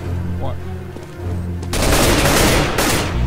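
Bursts of rapid automatic gunfire in the Counter-Strike video game, loud and dense, breaking out abruptly after a moment of quieter game ambience and continuing to the end.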